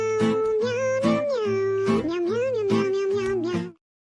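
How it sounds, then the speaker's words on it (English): A cat meows repeatedly in a long, drawn-out, wavering string of loud, close cries with no pause, ending abruptly. "here is your kitty cat"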